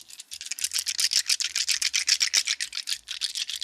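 Polyhedral dice shaken in a hand, a fast, steady rattling clatter of many small hard pieces knocking together, close and moderately quiet, continuing without a break.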